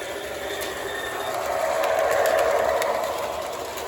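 A small model train runs along its track with a steady whirring hum and faint rhythmic clicking, close by and fairly quiet, with no voices.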